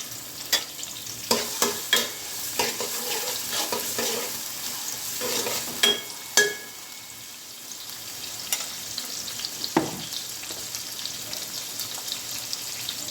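Chopped onions frying in oil with bay leaf and cinnamon, a steady soft sizzle broken by sharp pops and scrapes of stirring in the pan.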